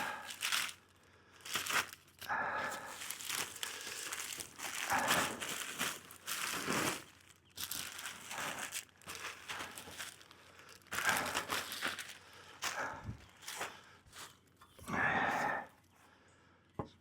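Brown mulch is spread by hand over black plastic in a garden bed, giving repeated rustling, crinkling scrapes and crunchy pours in irregular bursts, fairly quiet and close, with brief pauses between scoops.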